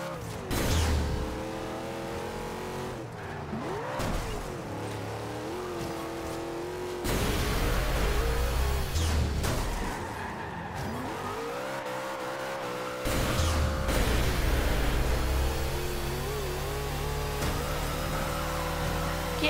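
Dom's Charger with nitrous in a racing video game: a loud engine roars and revs, rising and falling in pitch through repeated surges, with tire squeal between bursts.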